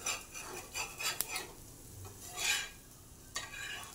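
Sprouted-grain thalipeeth being flipped in a pan, with quiet scraping and clinking of a spatula against metal in scattered bursts over a faint sizzle, fairly soft and close.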